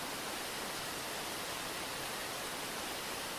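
A waterfall gives off a steady, dense hiss of falling water, soft and unbroken from start to finish.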